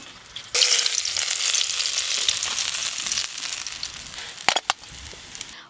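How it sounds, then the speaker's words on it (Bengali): Large silver carp pieces fry in hot oil: a loud, close sizzle starts abruptly and continues steadily, softening toward the end, with a few sharp utensil knocks. "দেখতে দেখতে এই মাছগুলোও ভাজা হয়ে গেল।"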